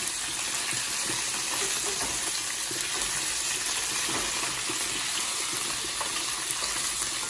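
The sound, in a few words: beef browning and popping in hot oil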